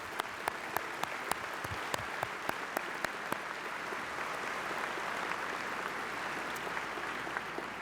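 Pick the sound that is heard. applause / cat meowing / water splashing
applause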